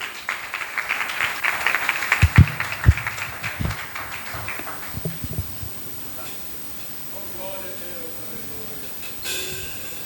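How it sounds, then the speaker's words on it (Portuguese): A church congregation at a missions service in Martinópole applauds, with scattered claps and a few sharper hand claps over a room murmur that thins out into quieter background sound. "A igreja recebe o servo de Deus com uma linda salva de palmas para Jesus."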